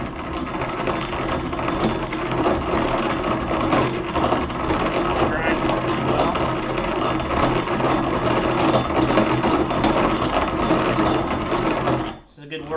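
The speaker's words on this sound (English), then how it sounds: "You can just grind some wheat." A Wonder Junior hand grain mill of enamel-coated cast iron grinding wheat gives a continuous rough, whirring mechanical grind that runs steadily for several seconds, a voice heard over it, before stopping abruptly near the end.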